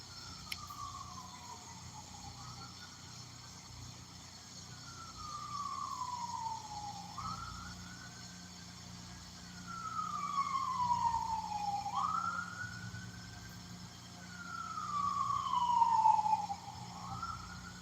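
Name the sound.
ambulance siren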